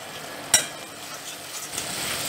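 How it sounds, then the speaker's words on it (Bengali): Onion, garlic and ginger paste fries on high heat, a soft, continuous sizzle close by with one sharp utensil knock early on. "এবার সব জিনিসগুলোকে জোর আঁচে 3 মিনিট ভেজে নেব।"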